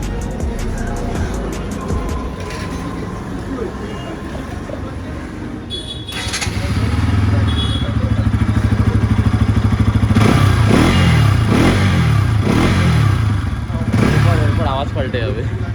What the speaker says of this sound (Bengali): NS200 এর স্টক এক্সস্ট নোটটা শুনে নিই